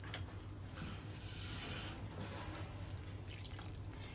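Water poured into a light chicken bharta gravy in a cooking pan, a steady continuous trickle and splash lasting several seconds, fairly quiet and close, with no talking.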